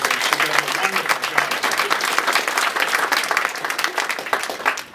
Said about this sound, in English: I think we owe her a round of applause